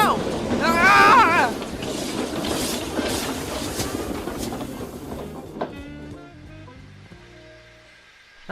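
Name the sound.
train wheels slipping on icy rails, Trainz video game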